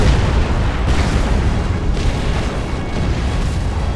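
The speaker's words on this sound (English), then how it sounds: "and the sounds of explosions for a very long time." Explosions boom continuously in the real-time strategy game Supreme Commander, a loud, dense, rumbling roar of blasts with no pauses and no talk over it.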